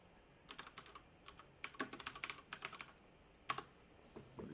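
Computer keyboard typing in quick irregular bursts of crisp key clicks with short pauses between, close and fairly quiet in an otherwise silent room.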